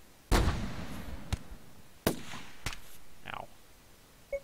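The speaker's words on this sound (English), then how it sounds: "Look, dude, you really gotta do some shooting." Gunfire in the Rimworld video game, heard as four sharp, isolated shots spaced about a second apart against a quiet background. A brief voice sound follows the shots.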